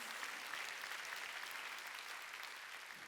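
Dense, steady applause from a church congregation during a Sunday worship service, a continuous wash of clapping that stays fairly faint and distant throughout with no talking over it.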